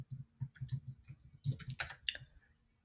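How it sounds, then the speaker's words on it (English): Rapid, irregular keyboard typing on a computer during a tutorial, a quick run of close, light clicks over a low steady hum, with no voices. "Sorry, typing on the wrong thing."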